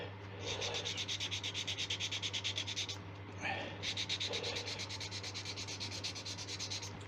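Wood surface on a Tigerwood turned bowl roughened with sandpaper for glue, producing close continuous fast scratchy sanding strokes in two bursts separated by a brief pause, over a low steady hum.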